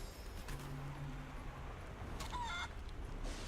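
Clucking of chickens in the video game Divinity Original Sin 2, where people are turned into chickens: short game-sound clucks, faint and brief, over a steady background with no talk.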